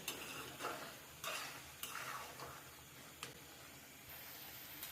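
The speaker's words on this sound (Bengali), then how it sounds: "এভাবে এখন আমি আরও দু থেকে তিন মিনিটের মতো নাড়ানাড়ি করে নেব" Chickpea curry with softened onions is stirred in a pan, soft repeated scraping strokes over a faint sizzle, quiet and close with irregular pauses between strokes.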